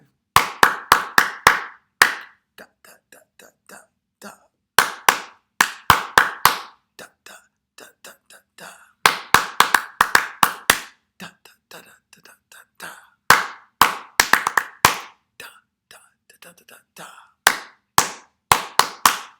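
Sharp hand claps ring out in short rhythmic patterns during a primary school music lesson, loud and close, with bursts of claps separated by pauses and quiet talk or whispers in between.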